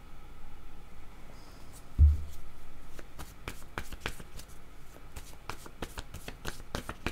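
Tarot cards are shuffled by hand in a series of crisp, irregular riffling clicks and flicks, with a dull thump early on, close and fairly quiet with no talking.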